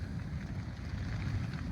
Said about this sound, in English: It's chucking it down with rain, and it's windy